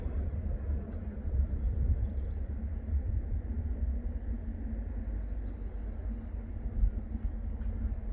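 A two-car Mugunghwa diesel train rolls by at low speed on a rural line, a steady low rumble and hum with no sharp peaks, while a couple of faint bird chirps sound in the background.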